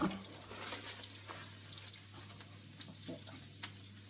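Faint scratchy whisking as milk is worked into a cheese sauce in a pan for macaroni cheese, a soft continuous bubbling texture over a low steady hum.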